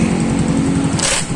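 A stock Honda TMX155 motorcycle engine runs steadily close up, a loud continuous thrumming idle with no talking.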